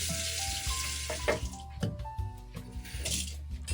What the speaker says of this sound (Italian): Sciacquiamo con l'acqua corrente sia okura che il tagliere.